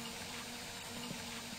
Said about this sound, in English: we're going to fill this up with water from the shower